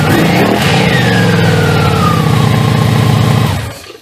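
A 1987 Honda V45 Magna 700cc motorcycle engine runs steadily and loudly close by, its even V4 drone holding for a few seconds before cutting out abruptly.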